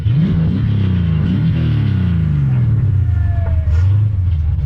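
A car pulling away with a loud, close engine rumble whose pitch climbs through a few gear steps, steady and strong throughout.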